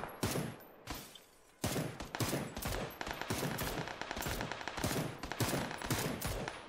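Rapid bursts of automatic gunfire and single shots crack through a video game battle, some shots sounding near and others farther off, firing almost continuously with short gaps in between.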